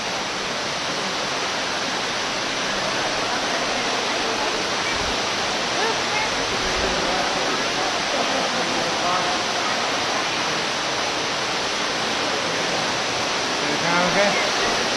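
Steady, loud rushing roar of an underground waterfall inside Ruby Falls cave, a broad continuous wash of falling water that fills the space without pause, with faint voices of visitors murmuring beneath it.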